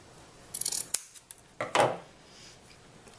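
Scissors snip through produce-dyed material in a few quick, close, crisp cuts, clustered at the start and again near the middle, with quiet gaps between.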